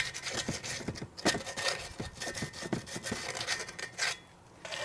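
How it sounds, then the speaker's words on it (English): Quiet rhythmic rubbing and scraping as corrosion is cleaned off the bearing seal surfaces of a 2-stroke engine case, a series of short close strokes with a brief pause near the end. "There's usually some corrosion in there, especially on the bottom here where the seal meets. So we want to clean that up as well."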